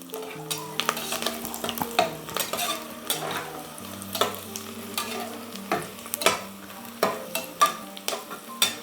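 Whole spices and a bay leaf fry in hot oil for egg biryani. Close, rhythmic stirring scrapes and clinks of a spoon against the pan sit over a soft, continuous sizzle.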